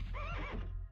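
A horse whinnies in The Legend of Dragoon, a 2000 video game: one short, loud neigh with a rising and falling pitch, lasting close to a second over steady low background game sound.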